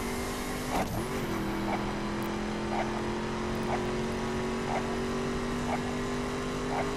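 Car engine in the racing video game The Crew, a steady droning hum with a brief pitch dip near the start, then holding a sustained tone alongside faint repeated ticks.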